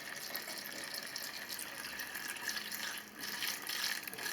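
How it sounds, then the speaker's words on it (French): Gasoline pours steadily into a small container for mixing chainsaw fuel, a continuous close trickling, gurgling flow lasting several seconds with no talk over it. "Je rajoute l'essence dans le petit conteneur, 500 ml"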